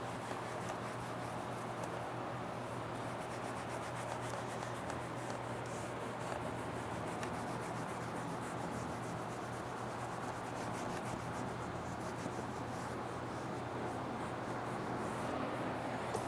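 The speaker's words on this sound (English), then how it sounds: "Just kind of buffing it in, rubbing it in" Cleaner is worked into Alcantara trim inside a Porsche 991 GT3, making a continuous soft, close rubbing and scrubbing sound. The noise holds steady at a low level with no voices.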